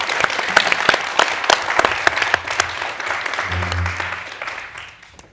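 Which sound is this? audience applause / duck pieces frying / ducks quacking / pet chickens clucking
audience applause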